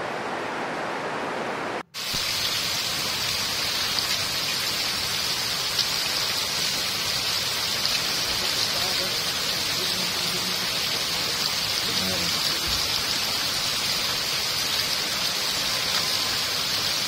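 Steady rain falling with fog over a road in Odisha, a dense, even hiss that continues unbroken after a brief cut near the start, close and constant with no voices.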